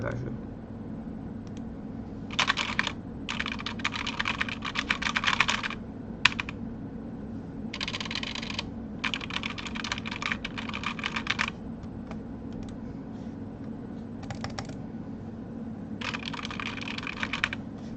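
Someone typing on a computer keyboard, with bursts of rapid key clatter separated by brief pauses, close and clear, over a low steady room hum with occasional speech.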